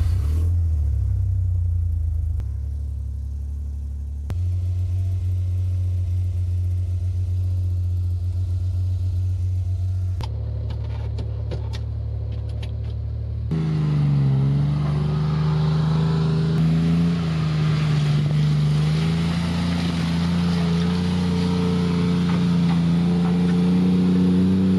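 Suzuki Carry JDM 4x4 kei truck engine cranks, catches and idles with a steady, loud low drone, then revs to a higher, rougher pitch and holds there.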